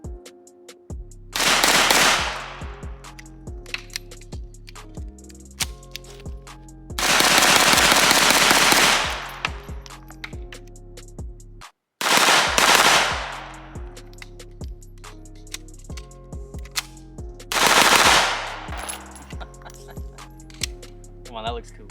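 Scorpion submachine guns fire four sharp full-auto bursts of several seconds each, loud and close, with pauses between; someone speaks between bursts.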